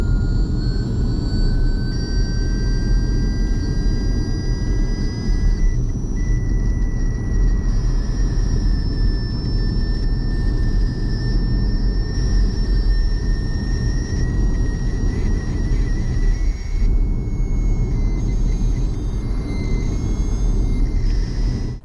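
Doppler audio from an MPH Ranger EZ traffic radar gun tracking passing vehicles: steady, continuous tones that slowly rise and shift in pitch over a constant low roar of traffic, with no voices.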